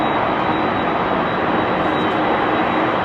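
An aircraft departs runway 27R at London Heathrow Airport with a loud, steady broadband engine roar that stays constant throughout, dominating the scene.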